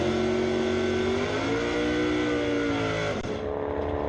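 A Dodge Charger or Challenger launching down a drag strip at an ET bracket finals event, its engine revving hard and building steadily in pitch as it pulls away, loud and continuous before easing off near the end.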